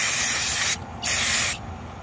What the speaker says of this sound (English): we're gonna give it a shot of some brake cleaner